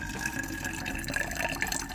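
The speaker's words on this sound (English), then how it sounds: "But let's pour this Coca-Cola out and see what our egg has done." Coca-Cola being poured out of a container, a steady close splashing liquid stream with dripping running continuously for about two seconds, no voices.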